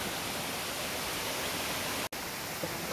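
Chirakkal waterfall in Kannur pours with a constant, dense rushing roar of falling water, loud and unbroken apart from one very brief dropout.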